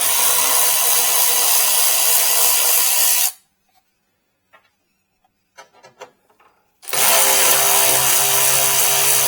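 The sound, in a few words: power tool removing 10 millimeter headlight bolts, Ford F-250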